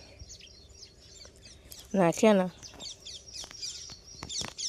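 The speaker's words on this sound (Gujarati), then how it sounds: "ચકલા જોજો કેટલા બધા આવે" Small birds chirp and tweet in quick bursts throughout, while someone speaks briefly in the middle, near and fairly loud.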